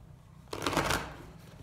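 A deck of playing cards is shuffled once: a single quick riffle burst of about half a second, close and crisp, following a short quiet pause.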